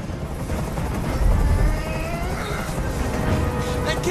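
A helicopter in the video game Detroit Become Human drones continuously, a broad, steady rotor wash that fills the scene at moderate loudness without speech.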